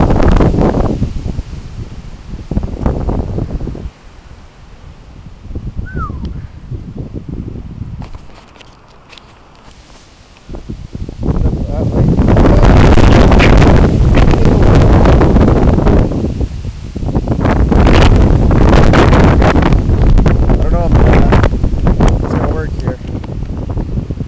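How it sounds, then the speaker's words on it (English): Heavy wind buffets the microphone in long roaring gusts, with leaves rustling loudly as the bursts rise and fall. "Come on, one more gust."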